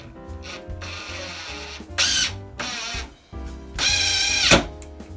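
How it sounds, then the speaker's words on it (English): A power drill drives a mounting screw into an interior door hinge, with short whirring bursts that rise and fall between pauses and end in a louder ratcheting grind as the screw seats, close and loud. "I like to take the center screw out of the hinge and run a mounting screw in"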